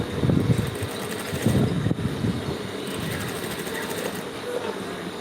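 A sewing machine stitches a pencil skirt during a live sewing class, a fast mechanical whirr with rattly bursts near the start, then steadier running hum through the rest, close and moderately loud.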